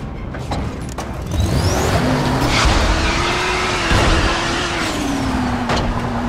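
A car engine roars and whines through a chase in Dying Light: The Following, loud and continuous with shifting pitch as it revs and changes gear, along with occasional skids and impacts, and no talk over it.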